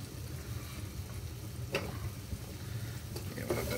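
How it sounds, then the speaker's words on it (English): Carrots and onions fry in a pan under a steady low sizzle, with a couple of brief spoon scrapes as they are stirred, quiet and close. "Give it a bit of stir around there."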